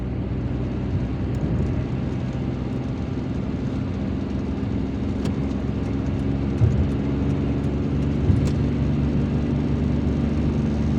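Inside a car driving through Algiers, a steady low engine and road rumble runs on without talk, with a couple of faint clicks.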